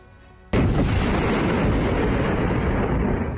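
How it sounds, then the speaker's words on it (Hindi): A single loud controlled IED blast erupts suddenly after a brief quiet, followed by a sustained, rumbling roar of debris and echo that slowly fades. "एक जोरदार धमाका और आसमान में काले धुएं का गुबार"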